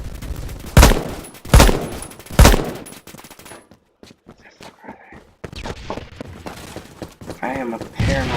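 Submachine gun fire from a Sten or Grease Gun in the Phantom Forces shooter game, with three loud, sharp bursts in the first few seconds, then quieter scattered shots and game noise, and a voice talking late in the clip.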